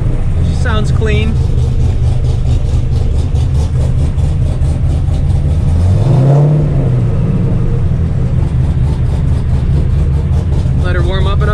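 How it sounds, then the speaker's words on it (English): A 7.0-litre LSx V8 engine in a Mazda RX-7 idles steadily with a deep rumble, swelling briefly into a gentle rev midway; a voice speaks briefly near the start and end. "Couple gentle revs to start her off."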